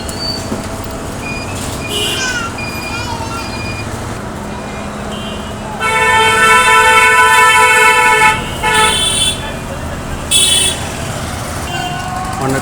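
Heavy traffic jam on a road in Khilkhet, Dhaka: a steady low rumble of idling vehicles, with several loud car horns honking in bursts, the longest blaring for about two seconds, then shorter toots.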